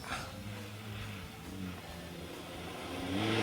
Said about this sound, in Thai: เสียงเครื่องยนต์โอเคไม่เหี่ยวครับไปต่อ